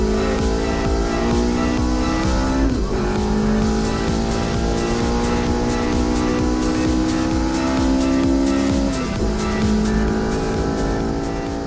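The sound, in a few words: BTCC touring race car driving to the finish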